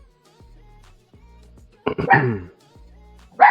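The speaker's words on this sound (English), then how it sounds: "Got the dog in here barking all crazy" A dog barks in an indoor barbershop: a couple of loud, sharp barks in quick succession, then a pause before another single bark close by. A faint low hum sits underneath.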